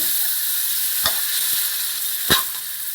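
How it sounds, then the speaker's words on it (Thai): About half a kilo of catfish goes into fragrant curry paste in a hot pan, bringing a steady loud sizzle that lasts throughout, with two sharp clacks of a utensil against the pan partway through and no talk. "ปลากด ประมาณครึ่งกิโล ใส่ลงไปเลย"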